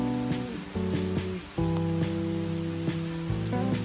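Steady rain falls on surfaces during a rainy bike ride through New York City, a soft, continuous hiss running beneath louder tonal music throughout.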